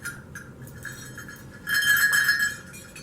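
A single bell from a Mapuche cascahuilla rattle is shaken, giving a few soft metallic clinks and then a sustained, brighter ringing jingle for about a second before it fades.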